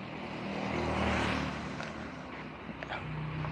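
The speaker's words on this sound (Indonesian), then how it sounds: "Iki ya suara mesin udah standar share." A standard Yamaha Fiz R motorcycle engine runs steadily at close range, a continuous hum that swells slightly before settling back.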